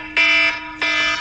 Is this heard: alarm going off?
yes